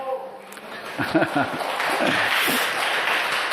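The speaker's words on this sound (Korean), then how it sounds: "다시 한번 크게 한번 박수 한번 쳐드립시다" Congregation in a church breaking into applause, a broad wash of many hands clapping that swells and holds steady after a few spoken words near the start.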